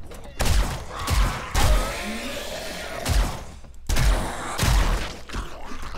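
Heavy booming shots from a .44 penetrator gun in 7 Days to Die, fired one at a time with irregular gaps of about a second, each a loud thump with a short tail over background ambience.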